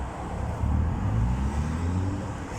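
Trucks driving along a road near a business zone, a steady low engine rumble and road roar that swells slightly as vehicles pass at moderate distance.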